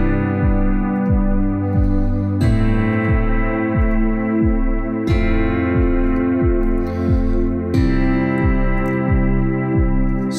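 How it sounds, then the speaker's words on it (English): A guitar patch from a synth plug-in such as Omnisphere, WaveState or Serum plays an arpeggiated pattern, rapid repeating plucked notes over held chords that change every few seconds, steady and effect-laden with echo and chorus, no voice. "Let's put this guitar on here."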